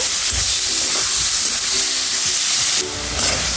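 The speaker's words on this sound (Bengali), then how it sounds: "এখন আমি দিয়ে দেবো কেটে রাখা টমেটোগুলো। এটা দিয়ে আমি নেড়েচেড়ে সুন্দর করে কষিয়ে নেব।" Cut tomatoes fry in hot spiced oil for a Bengali fish broth, giving a loud, dense sizzle with low thumps and scraping as they are stirred, close to the pan and without any talking.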